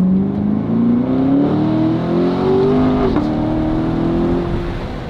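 A sports car engine revs steadily and loudly throughout, its pitch climbing gradually before a brief drop and settling, without the crackle of the exhaust.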